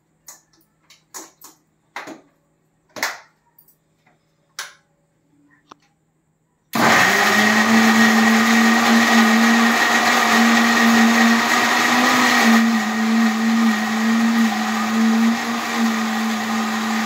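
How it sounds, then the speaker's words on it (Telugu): A mixie grinder blends brinjal chutney with garlic and coriander. A steady, loud, continuous whirring motor runs from about a third of the way in until the end, after scattered light taps and clicks in near silence. "దీన్ని మిక్సీలో వేసేయండి"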